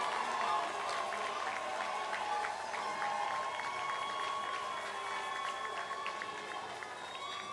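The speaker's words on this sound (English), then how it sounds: "Let's give him a round of applause" A crowd at an outdoor rally after a fast food wage board vote claps and cheers steadily, with dense applause that thins slightly toward the end.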